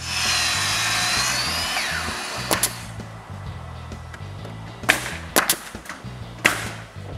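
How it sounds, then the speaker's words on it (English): A power tool whines as wooden planks are cut for a new shop ceiling, a steady motor drone that trails off, followed by several sharp knocks and clatters of wood nearby. "Each plank has to be cut and brought to the roof, and there are a lot."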